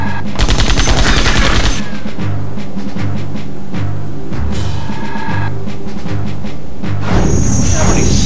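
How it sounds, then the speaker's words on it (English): Repeated laser blasts from Septerra Core's combat, a run of rapid buzzing pulses in quick succession, close and loud over a steady tonal game background. "Yep, that's a laser, alright."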